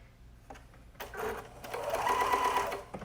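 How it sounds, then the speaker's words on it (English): A sewing machine runs a long straight stitch around the edges of a kids' hoodie pocket, starting with a few needle taps, then a close, steady whirring hum for about two seconds before stopping. "I'm going to just do a straight stitch around all the edges so I can take that pin out"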